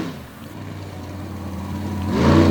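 A multicolored Ford monster truck circling the front stretch of a wet dirt speedway, its engine a low steady rumble heard from a distance that swells into a louder rising rev near the end, with no talking.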